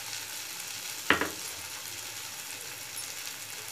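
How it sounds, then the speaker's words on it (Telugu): Brinjal pulusu frying in a pan with curry leaves and coriander gives a steady, close sizzling hiss, broken once by a single sharp clack of a utensil about a second in. "ఇప్పుడు బాగా మనకి వేగిపోయాయి"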